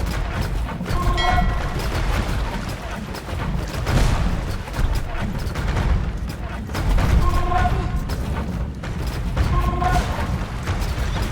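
Cannon fire and battle effects in the Age of Empires 2 Definitive Edition campaign, heavy booming volleys recurring in bursts over a dense, continuous din of combat noise, with speech mixed in.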